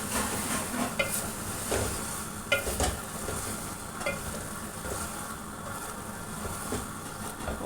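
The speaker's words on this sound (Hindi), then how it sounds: "अब मैं भिंडियाँ डालूँगी और थोड़ी देर इनको पकाऊँगी" Okra cooks in a pan for a bhindi dish made without deep frying. A continuous soft sizzle runs throughout, broken by a few light clanks and knocks from a utensil against the pan.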